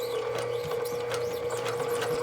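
A sewing machine back-stitches a short run on a centered zipper seam at a 2.5 stitch length, a steady close mechanical hum with a fast, even rattle running throughout, no voices.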